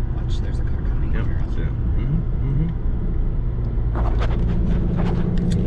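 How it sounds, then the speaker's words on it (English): A car approaches and passes along a quiet road near Rocky Mountain National Park, its low engine rumble steady throughout beneath ongoing conversation. "there's a car coming"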